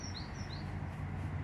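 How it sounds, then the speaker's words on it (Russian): Birds chirp outside a window on a fine early-autumn day: two quick, faint rising tweets early on, then only a low, steady background hum. "Выглянул в окошко. Хорошая погода, птички поют."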